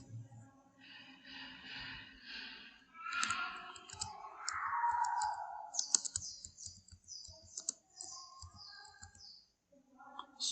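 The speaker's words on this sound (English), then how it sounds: "Now type your text here." Keys clatter on a computer keyboard in a quiet room, with irregular bursts of soft clicks and taps spread across the stretch and a few louder clacks in the middle.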